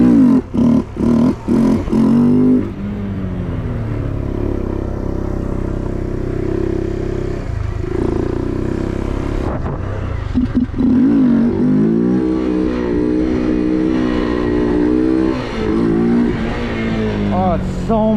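A mini bike engine revving and accelerating through driveway stunts in cold weather, close and loud, with sharp blips at the start, then long wavering throttle runs, and a voice talking over it.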